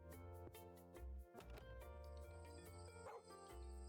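A dog barks in the video game Little Rocket Lab, its short yips set against steady, tonal background game music.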